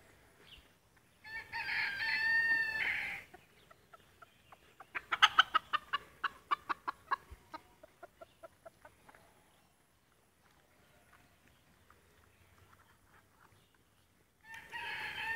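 A bantam rooster crows loudly, then white bantam hens cluck in a rapid, fading series of calls, with quiet stretches before another crow starts at the end.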